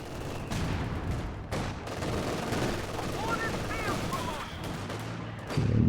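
Machine-gun fire from an MG42 in a real-time strategy match, dense crackling bursts running steadily throughout the clip, with explosions and battle noise mixed in and a louder thump at the end.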